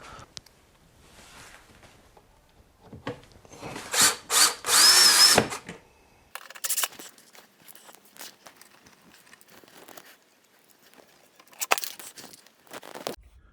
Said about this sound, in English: let's go ahead and screw in the 4 screws on this side.